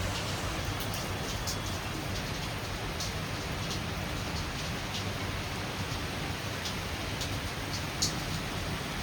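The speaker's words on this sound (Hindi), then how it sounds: "बाहर हो रही है बहुत जोर के बारिश, मार्च के मौसम में बारिश।" Heavy March rain pours steadily outside, a dense unbroken hiss with occasional faint drops standing out above the constant wash.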